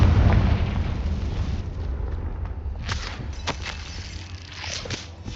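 Confringo blasting spell detonating in Hogwarts Legacy, a loud booming burst at the start trailing into rumble, followed by several sharp crackling impacts and debris snaps.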